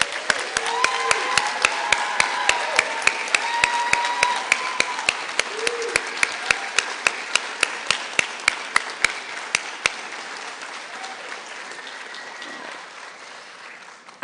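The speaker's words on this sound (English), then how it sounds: "so let's give them a round of applause" An audience applauds at a ceremony, a sustained round of clapping that gradually thins out into a few scattered, fading claps near the end.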